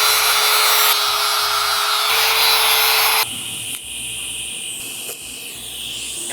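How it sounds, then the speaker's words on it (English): An angle grinder cleans off welds on a custom dust collection system for a three-headed CNC, whining loudly and steadily in close range before dropping to a quieter, lower grind with intermittent bumps and scrapes. "Clean that off with the grinder."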